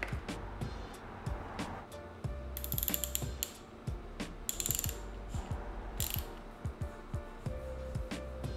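A ratchet tightens the bottom nut on an Aprilia RS660, giving quick repeated clicking strokes in bursts with short pauses and occasional sharper metallic ticks, close and fairly quiet.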